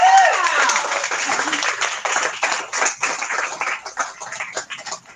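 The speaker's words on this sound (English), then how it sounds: "Round of applause" An audience applauds a Pennsylvania State FFA champion Creed speaker at an FFA Creed speaking demonstration, opening with a brief cheer and a dense burst of clapping that thins into scattered claps over about five seconds.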